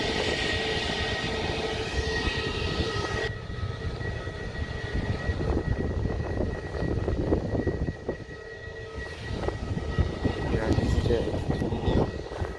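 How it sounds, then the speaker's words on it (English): A Piper Cherokee light aircraft engine heard from an airport spotting spot, a steady droning propeller hum with shifting tones, fairly loud and continuous over background noise. "It's a Piper Cherokee."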